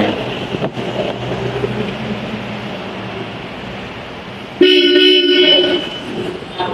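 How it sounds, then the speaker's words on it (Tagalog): A Bosch Europa aftermarket horn on a Mitsubishi Xpander Cross blares in one loud, sustained honk lasting about two seconds, sharply rising above a steady background rush. "Let's try our Bosch Europa horn."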